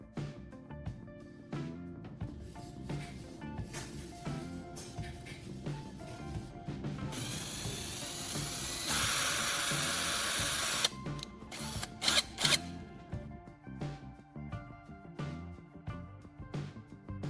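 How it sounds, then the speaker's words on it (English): Power drill boring two small holes into plastic battery caps, heard as steady buzzing runs of motor whine with a louder sustained stretch in the middle, broken by handling clicks and knocks. "I use a drill to make 2 small holes at the center of the plastic caps"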